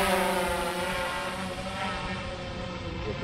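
A DJI Phantom 4 Pro V2.0 drone lifts off with a loud, close, high-pitched whir of propellers whose tone shifts as it climbs, drifting slightly farther away.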